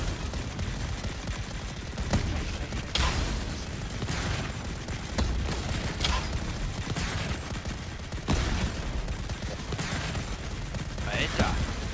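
Rapid gunfire and bursts from weapons in the volcano survival game Volcanoids, a dense, continuous clatter of shots with a few sharper booms standing out across the stretch.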